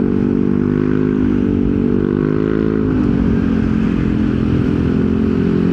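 A Yamaha NMAX scooter fitted with a VMAX Racing Onyx muffler is ridden, its exhaust droning loud and steady at close range, with a slight shift in pitch partway through and no voices.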